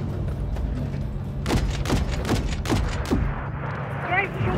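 Rapid gunfire from an attacking helicopter in Call of Duty Modern Warfare III, a burst of a few heavy shots rattling over a noisy battle backdrop near a hangar.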